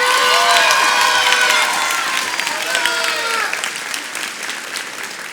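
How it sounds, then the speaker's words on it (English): Applause from a graduation ceremony audience: steady dense clapping with cheers and voices mixed in, loud at first and slowly thinning, with crowd chatter underneath. "I think they deserve a round of applause"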